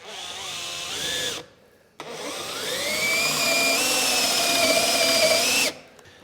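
A 1.5 inch Forstner bit bores into wood on a bench build, a loud, whining drill that runs in two bursts with a short pause between, its pitch rising as the motor spins up and bites.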